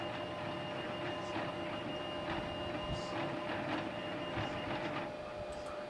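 A 3D printer runs steadily through a three-color filament print, its stepper motors whirring and buzzing in a dense mechanical drone with recurring short chirps and clicks of head movement, close and continuous with no talking.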